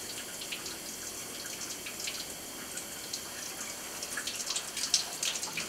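Hands being rinsed under a running tap in a surgical scrub setting make a steady soft stream of water with intermittent splashes growing slightly louder toward the end.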